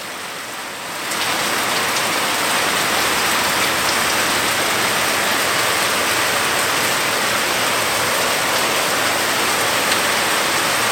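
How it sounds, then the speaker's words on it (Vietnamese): Heavy rain pours steadily in a rural hillside garden with pear, plum and peach trees, a dense, loud, unbroken hiss that swells in after the first second and holds without voices. "trận mưa này là trận mưa đầu tiên mưa to như này đấy"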